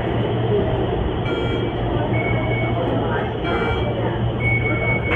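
An Agra metro train sits at a station, its interior hum and rumble loud and steady, while a recorded announcement plays over it.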